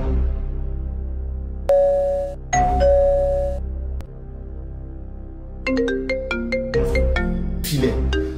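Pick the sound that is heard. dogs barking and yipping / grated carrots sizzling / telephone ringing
telephone ringing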